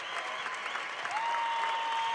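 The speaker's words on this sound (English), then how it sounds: "And a well-deserved round of applause." Applause from a basketball crowd at the close of a Coastal Carolina college game, steady and moderately distant, with a steady high tone running beneath it.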